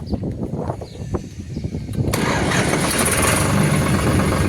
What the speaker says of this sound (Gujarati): એકદમ આરામથી ટ્રેક્ટર સ્ટાર્ટ થઈ ગયું, એકદમ સ્મૂથ સ્ટાર્ટિંગ છે